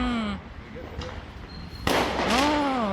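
Fireworks burst at a Diwali celebration near the Burj Khalifa, a sharp crack followed by crackling, heard under excited voices talking and exclaiming throughout.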